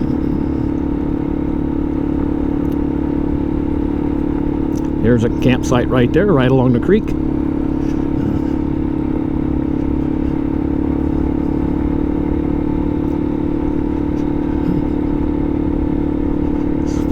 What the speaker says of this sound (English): With the motorcycle here, I can just go around them